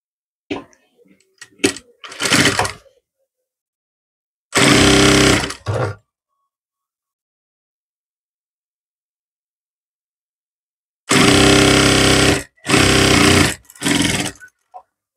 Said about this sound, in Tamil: இப்போ இதுக்கு தையல் போடணும்.